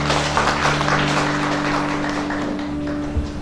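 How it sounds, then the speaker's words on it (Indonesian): Applause breaks out at a Batak wedding blessing ceremony, a steady wash of clapping from the gathered guests held at an even level for a few seconds, with a low steady hum beneath it. "beri tepuk tangan dong"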